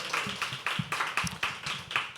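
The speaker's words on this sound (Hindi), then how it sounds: "एक बार जोरदार तालियां अच्छे से बजाओ यार" Clapping from the audience at a live poetry open mic, a handful of people striking hands in a quick, fairly regular rhythm, close and moderately loud, with no talk over it.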